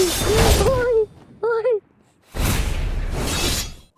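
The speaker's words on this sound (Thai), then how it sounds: "อันนี้คือสกิลระเบิด" A voice cries out briefly, then two loud, broad bursts of an explosion skill effect in Roblox follow one after another.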